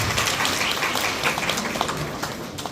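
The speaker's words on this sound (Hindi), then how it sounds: "तो आप सब लोगों के लिए एक बार ताली बनती है" Sustained crowd clapping fills a birthday celebration for Gangadhar Nakade, divisional president of the Shikshak Sena teachers' group, a dense, even patter of many hands held steady for a few seconds.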